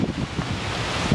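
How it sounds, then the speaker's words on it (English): Strong gusty wind buffets the microphone outdoors at a riverside fishing spot, a continuous low rumbling roar with no other clear sounds. "It's super windy out here."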